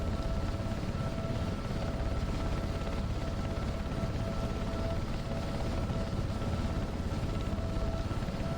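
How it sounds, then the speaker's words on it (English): A Sea King helicopter flying low over the ground in wind gives a continuous dense rotor and turbine roar with a steady whine, heard from inside the aircraft, unbroken throughout. "You can feel the helicopter going sideways across the ground."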